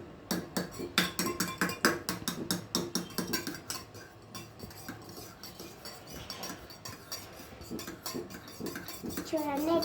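Beaten egg being mixed in a bowl for egg dosa, a rapid run of light clinking strokes of a utensil against the bowl, steady and close, with the rhythm loosening partway through and a voice faintly present in the background.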